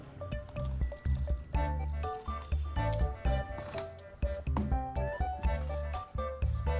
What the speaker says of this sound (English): Then, I add a small amount of thinner.